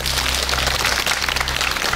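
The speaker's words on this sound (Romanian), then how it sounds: "Aceste aplauze sunt pentru tine" A studio audience applauds for a winning contestant on a televised quiz show, a dense, steady wash of clapping at close range, loud and sustained throughout.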